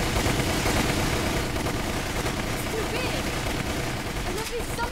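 Rapid gunfire from the Resident Evil Umbrella Chronicles video game, a dense continuous barrage of shots running the whole time at steady loudness, with game noise and a voice underneath.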